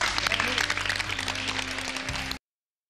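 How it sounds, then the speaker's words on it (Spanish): Applause in the Chilean senate, a dense burst of clapping mixed with low murmuring voices, fading at the end before cutting to silence. "el aplauso que va ahora es para usted"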